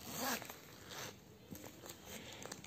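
A zipper is drawn open on a Bison denim wallet of leather with a high-quality zip, giving a soft close rasp over a few seconds with small clicks and handling noise, no talking.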